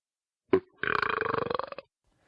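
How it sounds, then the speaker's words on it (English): After a brief grunt, a loud, drawn-out belch rumbles with a rapid fluttering rattle for over a second, then stops. "let out a loud, long belch"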